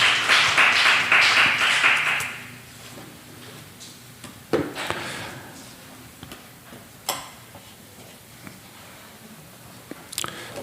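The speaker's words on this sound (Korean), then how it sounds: "우리 하나님께 영광의 박수 올려드리겠습니다." A church congregation bursts into applause in a dense patter of clapping for about two seconds, then it fades into a quiet room with scattered small knocks and clicks.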